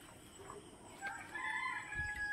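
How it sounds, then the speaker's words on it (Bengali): A rooster crows at dawn in a quiet rural setting, a single faint call rising partway through against low background quiet. "ওই দেখো মোরগ কেমন ডাকছে।"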